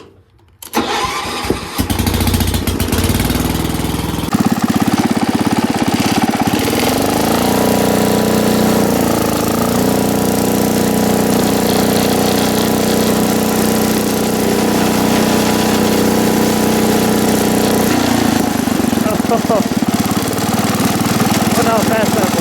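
A Wheel Horse garden tractor engine starts with a rough catch and then runs loud and steady at close range for the rest of the stretch, droning with a slight shift in tone near the end as it heads downhill.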